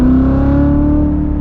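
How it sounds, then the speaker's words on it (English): A C7 Corvette Z06 with a manual gearbox revs hard during a rev-matched shift, its loud, rich engine note holding steady and close for a moment with no talk over it. "That sounds good with the, I mean, this is like just perfect with the rev match, obviously."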